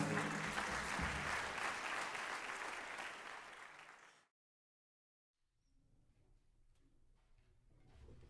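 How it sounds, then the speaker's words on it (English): Audience applause for a jazz singer at a Christmas jazz show, a dense, loud ovation for about four seconds that cuts to brief silence, then quieter murmur and scattered crowd noise return. "Give him another round of applause."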